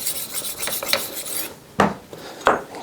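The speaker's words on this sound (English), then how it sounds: "So just finish this guy up with this high polisher." A knife blade drawn over the polishing side of a rolling knife sharpener, with light scraping strokes followed by two sharper, louder metallic rasps near the end.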